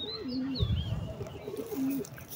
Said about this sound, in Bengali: পাঁচ ছয় জোড়া কবুতর আছে আমাদের এখানে, ছোট্ট একটা ঘর।